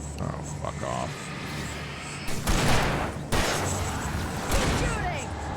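Gunfire in the video game Alan Wake Remastered, several sharp loud blasts with crackling bursts over rumbling game ambience, while someone talks over the action.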